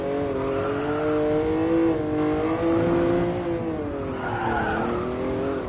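A Jaguar XJ13 engine roars steadily in GT Sport on the Nordschleife, a loud sustained drone whose pitch rises and falls with gear changes, tires squealing and skidding beneath it, with no one speaking.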